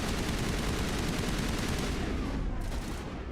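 Gunfire in the video game Mass Effect, heard as a steady, dense barrage of shots that stays loud and continuous throughout.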